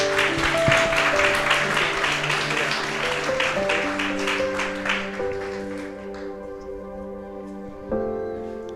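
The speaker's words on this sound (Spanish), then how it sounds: "Aplausos, iglesia." Inside a church at a wedding ceremony, a congregation applauds in a steady crowd clatter over sustained musical tones, and the clapping fades as the music carries on.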